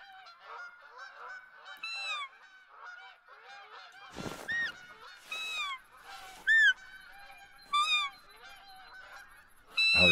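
Geese in a field in The Hunter: Call of the Wild hunting game honk repeatedly in a nasal, overlapping flock chorus, with several louder calls standing out.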